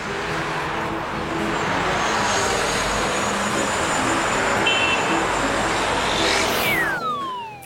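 Road traffic rolls past in a continuous broad rush, with vehicles near and far blending together. One vehicle sweeps by closely near the end.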